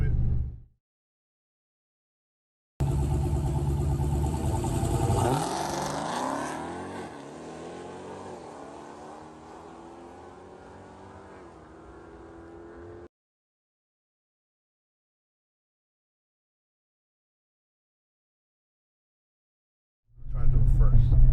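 A 850 hp Dodge Charger SRT Hellcat engine roars loudly, surging hard and then falling away over about ten seconds as it accelerates, framed by silence and a brief voice at each end.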